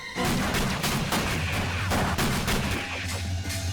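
Gunshots in the PS1 game Fear Effect, a rapid string of sharp, loud cracks with heavy low rumble beneath, firing steadily for several seconds with no talk.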